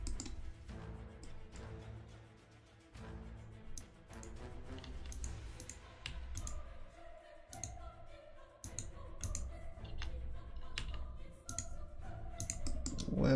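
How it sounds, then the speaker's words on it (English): Rapid computer mouse clicks during PC game play, sharp and close, coming in irregular bursts over a low background hum of game sound. "Where was I clicking, dude?"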